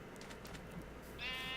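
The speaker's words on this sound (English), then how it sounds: "It's more sheep. I hear more sheep." Sheep bleating in the video game Minecraft (Feed the Beast modpack), a faint wavering bleat at the end over a low steady background.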